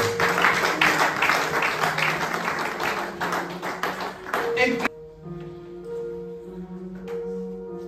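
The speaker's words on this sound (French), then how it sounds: "Et applaudissons très fort pour la gloire de Dieu." A church congregation claps loudly during a Sunday service on almsgiving, dense irregular clapping for about five seconds that stops abruptly, leaving a quieter tonal background with faint sounds.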